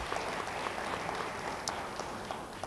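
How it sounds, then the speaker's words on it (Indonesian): A church congregation applauds during a sermon, a soft, steady patter of many hands clapping at some distance, quiet and even throughout. "Yang percaya beri tepuk tangan bagi dia."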